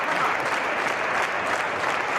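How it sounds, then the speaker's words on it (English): A packed wrestling crowd at an independent show applauds and cheers without pause, a dense, loud wall of clapping heard from within the arena. "This crowd again getting behind Horace. This crowd is nuts"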